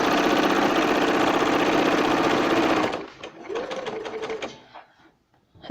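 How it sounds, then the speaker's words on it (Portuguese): A sewing machine stitches fabric bunting, running loud and steady for about three seconds before stopping, followed by brief rattling handling sounds and a short mechanical whir. "Vou costurar de novo até o final."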